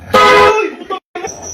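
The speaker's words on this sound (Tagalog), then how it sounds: "yung backpack prank, yung may busina sa likod ng bag" A horn mounted on the back of a backpack gives a short, loud honking blast, followed after a brief pause by two quicker toots.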